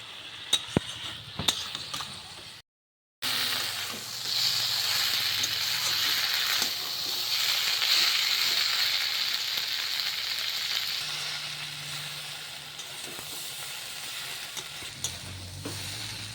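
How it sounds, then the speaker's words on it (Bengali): Ground spice paste frying in a pan for a fish and gourd-greens dish, a continuous close hiss of sizzling oil with occasional stirring scrapes after a brief clatter and a short gap of silence. "দিয়ে ভালো করে নাড়াচাড়া করে ভালো করে কষিয়ে নিতে হবে"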